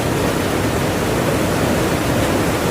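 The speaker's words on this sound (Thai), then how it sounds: "น้ำไหลแรงมากนะครับ" Water rushes strongly over a dam spillway weir near a village, making a loud, dense, continuous roar with no pauses and no voices.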